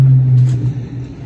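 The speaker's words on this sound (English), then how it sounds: "Now what's this loud car gonna frickin' do now?" A loud car roars past close by, a strong low engine rumble that peaks at the start and then fades quickly as it moves away, with no talking.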